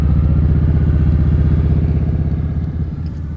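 Kawasaki touring cruiser motorcycle engine running steadily nearby with a loud, even low throb and slight mechanical clatter, fading a little toward the end.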